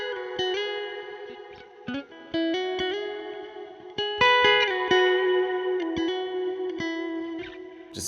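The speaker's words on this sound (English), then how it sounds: "so let's try to come up with a cool lead guitar. And for that I always like to throw on some extra reverb" Lead guitar melody soaked in extra reverb and effects, played over a melodic beat, with sustained, bending notes ringing out steadily and loudly for the whole stretch, no voices.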